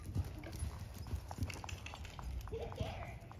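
Horse cantering in a riding arena during a lesson, hooves thudding in a steady three-beat rhythm close by, with a coach talking over the footfalls.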